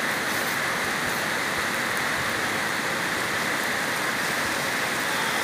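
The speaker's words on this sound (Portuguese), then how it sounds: "Chuva aqui no sertão," Heavy rain pours steadily in the Brazilian sertão near an overflowing canal, a loud, dense and unbroken hiss with no voices.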